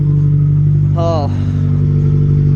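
A small truck's engine idles steadily throughout, with a brief voice sounding over it partway through.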